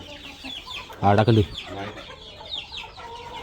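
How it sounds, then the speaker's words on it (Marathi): A farmyard hen gives a short burst of loud clucking close by, a brief cluster of calls standing out over quieter background chatter and outdoor noise. "कोंबडी येत आहे"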